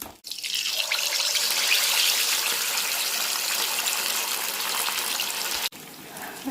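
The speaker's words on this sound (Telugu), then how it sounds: "ఆయిల్ కాగిందండి ఇప్పుడు ఫిష్ వేసుకుందాం" Fish pieces coated in a green chilli masala hit hot oil in a pan, setting off a loud, dense, steady sizzle that runs for about six seconds before cutting off sharply, with a softer sizzle after.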